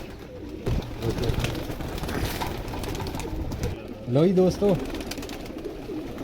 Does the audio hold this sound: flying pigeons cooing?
yes